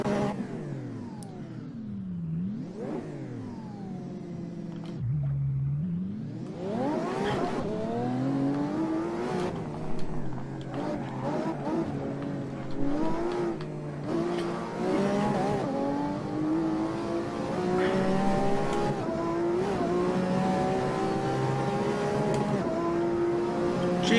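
Four-wheel drive red car driven fast on a lap of the Nurburgring, its engine note climbing and dropping steadily through the gears, loud and continuous with brief dips between shifts.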